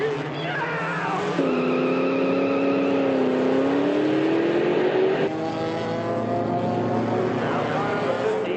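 Race cars on a track in the 1969 film The Love Bug, with a high engine whine that rises and shifts pitch, overlaid by music and a commentator's voice throughout.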